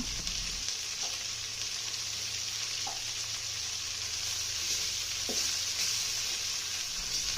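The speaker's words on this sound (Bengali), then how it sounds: "এবার কড়াইতে বসিয়ে দিব মাংসগুলোকে ভাজার জন্য" Steady, continuous sizzling of chicken frying in a hot wok, with a few faint clinks of stirring, no voices.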